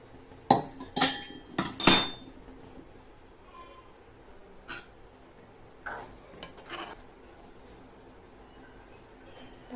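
A utensil stirs salted sambhar in a pot, producing a quick run of clinks and scrapes against the metal, then sparser, quieter knocks in a hushed room.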